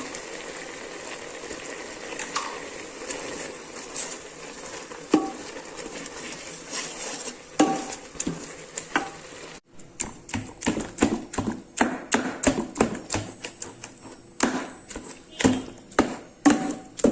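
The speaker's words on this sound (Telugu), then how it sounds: "ఇప్పుడు బాగా పప్పు గుత్తితో ఇలా మెత్తగా నలిపేసానండి" Cooked amaranth leaves are pressed down with a wooden dal masher, first a muffled mixed background, then a quick run of soft rhythmic thumps and squelches close by.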